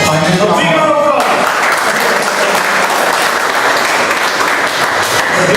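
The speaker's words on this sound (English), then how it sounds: "A big round of applause." Loud, dense applause fills a Toastmasters club meeting room, cutting in right after a brief shout and continuing strongly throughout.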